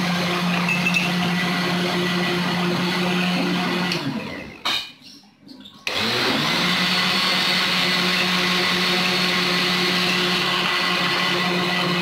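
An electric blender whirs steadily while blending date juice with sugar, a loud continuous motor drone that cuts out for about a second in the middle with a few knocks, then starts again and runs to the end.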